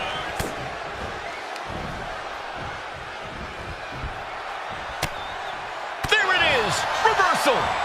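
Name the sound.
wrestling clothesline slam in WWE 2K25 video game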